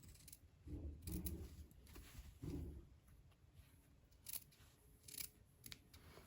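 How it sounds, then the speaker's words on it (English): Scissors snip through a single fabric sleeve layer of a shirt being sewn, several short crisp cuts in quick clusters, close and quiet, with no talking. "So now we are just going to snip through here."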